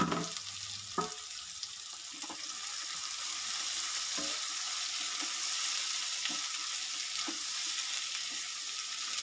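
Boiled potatoes and onion fry in a pan while being stirred, a soft continuous sizzle with occasional scraping strokes of the spoon, fairly quiet and with no voices.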